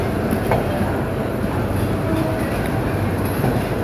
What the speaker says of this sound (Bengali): এই যে কমলাপুর রেল স্টেশনে প্রবেশ করলো ট্রেনটি।